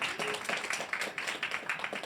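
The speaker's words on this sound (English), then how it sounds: "clap it up for the winners" Audience at a startup founders summit in New York clapping for the winners, a burst of moderate, fairly close applause with uneven individual claps over about two seconds, some voices mixed in.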